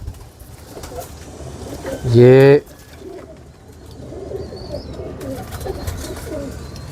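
Teddy pigeons of a cream bloodline coo nearby in low burbling phrases, with one short, loud tonal burst early on and softer coos later, while someone speaks briefly.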